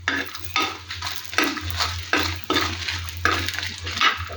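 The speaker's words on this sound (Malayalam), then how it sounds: "ഇതിങ്ങനൊന്ന് മൂപ്പിക്കുന്നു" Spices for pumpkin masala fry in a hot pan with a steady sizzle, while a spoon stirs and scrapes in loud, repeated strokes roughly once a second.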